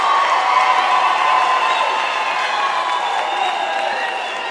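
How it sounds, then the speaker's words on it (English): A graduation audience applauds at a university autumn ceremony, a dense, sustained wash of clapping from a large crowd that holds steady and fades slightly toward the end. "Can we please give them a round of applause?"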